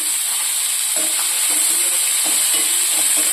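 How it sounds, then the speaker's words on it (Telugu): Tomato, onion and curry leaves frying in a pan give a steady, close hissing sizzle with a few soft stirring scrapes, no voices. "ఇవన్నీ వేసుకుని చక్కగా ఒక టూ మినిట్స్ వేయించుకోవాలి కరివేపాకు కూడా వేసుకోవాలండి"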